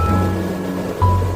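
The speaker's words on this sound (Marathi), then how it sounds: "सगळीकडं पाणीच पाणी, अनलिमिटेड पाणीच पाणी. ताकद समुद्राची" Sea waves wash steadily onto Vengurla Beach in Sindhudurg on the Konkan coast, a continuous close surf roar with a brief tonal hum rising near the end.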